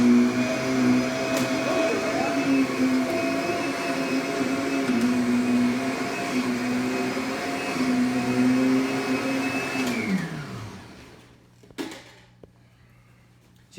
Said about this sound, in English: before I shampoo, I'm just going to vacuum a little bit more because there is a lot of dirt here